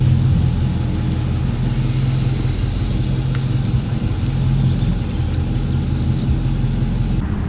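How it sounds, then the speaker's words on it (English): A steady, low engine drone from a Dodge Charger R/T with an exhaust leak at the header gasket, a rough rumbling exhaust note while driving, continuous and fairly loud throughout, no voices. "I have a little exhaust leak at the header between the gasket and the engine"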